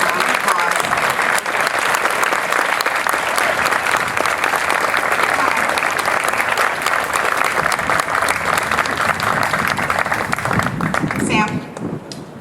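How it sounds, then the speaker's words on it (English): A theater gala audience gives sustained, loud applause for a troop of Boy Scouts, dense clapping holding steady for several seconds before tapering off near the end, with a few voices mixed in. "Ladies and gentlemen, please give our Boy Scouts a round of applause."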